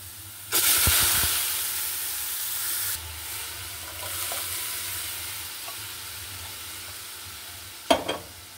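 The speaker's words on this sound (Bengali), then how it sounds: "পেঁয়াজ ভাজাটা আমার হয়ে গেছে, এখন আমি চুলোটা অফ করে ডালটা ঢেলে দিব।" Boiled dal is poured onto deep-fried onions in a pan on a switched-off stove, opening with a loud burst of sizzle that fades into a quieter hiss, followed by a short clatter near the end.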